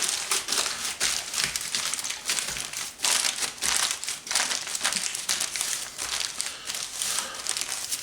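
Aluminum foil being crinkled and pressed around the bone of a smoked beef shank, a close, busy crumpling that keeps going in uneven bursts with short pauses, alone without talk.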